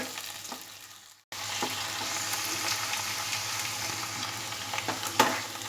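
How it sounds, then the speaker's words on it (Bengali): Potatoes fry in a pan over a lowered gas flame, a steady close sizzle broken by a brief silent cut and a few stirring knocks. "আমি আলুটাকে তিন মিনিটের মতো গ্যাস কমিয়ে রেখে একটু ফ্রাই করে নেব"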